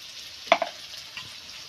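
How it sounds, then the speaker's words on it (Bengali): Potatoes frying in a pan, a soft steady sizzle with a couple of quick utensil knocks early on. "আর একটু ভালো করে ভেজে নেব আলুগুলো"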